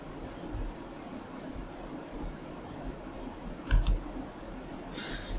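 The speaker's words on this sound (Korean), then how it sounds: "클릭." A computer mouse clicks once or twice in quick succession, a crisp near tap standing out from a quiet room hiss, with almost no other activity around it.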